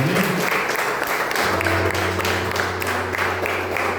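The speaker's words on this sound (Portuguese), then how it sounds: "Dê uma salva de palmas a Jesus." Sustained applause from a church congregation praising Jesus, a dense, steady wash of many hands clapping at even loudness throughout, with a low hum or sustained tones entering beneath partway through.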